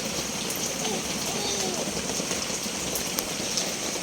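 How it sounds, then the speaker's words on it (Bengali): Steady, dense rain hiss fills the whole stretch, loud and continuous, with faint voices murmuring underneath. "বৃষ্টি হচ্ছে তো জল পড়ছে"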